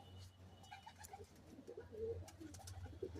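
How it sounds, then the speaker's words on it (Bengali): A Giribaz pigeon coos softly in a short series of low, rounded calls over a faint background hum, close but quiet. "পায়রা"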